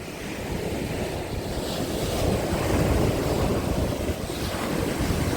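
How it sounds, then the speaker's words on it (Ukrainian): Rough, rushing Black Sea surf at Lanzheron beach in Odesa rolls in continuously, heavy with wind buffeting the microphone, swelling slightly in the middle. "Рася, відійди, тут хвилі Рася"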